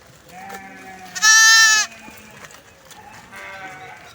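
Goats and sheep on a farm, a single loud, sustained bleat at the centre, with quieter bleats and a little background murmur before and after.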